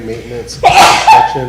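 A single quick sneeze bursts out amid talk at a tribal council meeting, sharp and close between spoken words.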